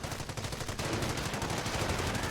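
Gunfire in a WWII video game battle in France, a dense rattle of shots and bursts crackling continuously over a loud, busy backdrop.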